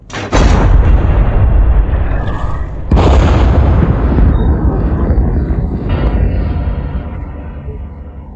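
Cannons fire cannonballs in two heavy booming blasts, the first near the start and the second about three seconds later, each followed by a long rolling rumble that slowly fades.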